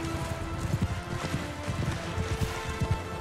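Hooves of a horse clopping and galloping in the medieval combat video game Mount and Blade Bannerlord, rhythmic irregular thuds up close, moderately quiet, with scattered battle noise around.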